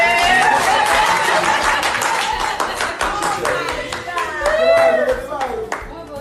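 An audience breaks into lively, sustained applause of many hands clapping, loud and close, with voices and a laugh mixed in.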